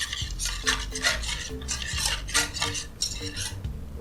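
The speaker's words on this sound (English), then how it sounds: "into the chocolate syrup and then whisk it" A whisk stirs chocolate syrup in a bowl, producing close, rhythmic metallic clinks and scrapes against the bowl in quick repeated strokes, with no talk.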